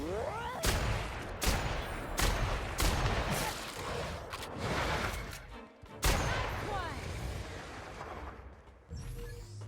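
Gunfire rings out during combat in the video game The Outer Worlds: a string of loud, sharp shots at irregular intervals over busy game sound, with a brief lull before firing resumes.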